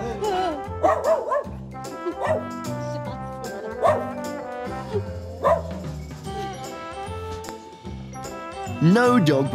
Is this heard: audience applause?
no